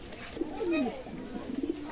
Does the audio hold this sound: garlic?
no